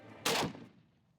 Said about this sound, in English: AK-50 V3 completed, assembled, test fire.